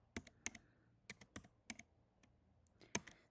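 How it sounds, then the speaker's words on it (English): A ChatGPT prompt is typed on a computer keyboard: scattered, uneven key taps with small gaps, faint and close in a quiet room. "I'm just gonna go and type"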